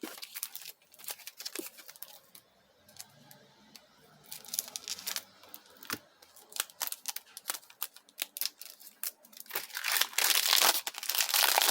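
Shiny plastic wrap on a tightly sealed catalogue crinkles and crackles in irregular bursts up close, building to a loud sustained tearing rip near the end.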